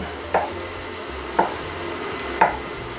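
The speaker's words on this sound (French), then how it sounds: "On va la couper en plusieurs morceaux" Three evenly spaced knife cuts through dough, each a short crisp tap against the board at roughly one-second intervals, close and clear over a quiet background.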